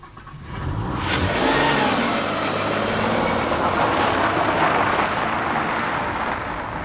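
A 1989 Peugeot 605 with a 24-valve, 200 bhp engine accelerates hard, its strong, smooth engine note rising steadily in pitch with road noise close by and no voices.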